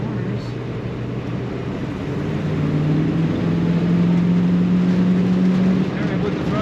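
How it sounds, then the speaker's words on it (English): A 1967 Chevrolet Chevelle SS convertible pulls hard at full throttle, its engine drone rising in pitch and swelling in loudness mid-clip, heard from inside the open car with road and wind noise. "We definitely get some good acceleration in this car."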